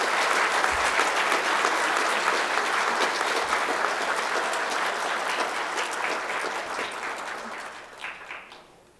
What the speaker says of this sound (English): Please give all of our honorees another round of applause.